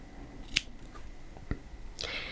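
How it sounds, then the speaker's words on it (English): Scissors snip through crochet yarn at a hexagon motif, a few short, crisp clicks spaced apart, close and fairly quiet with no talking. "grab your scissors and cut the yarn"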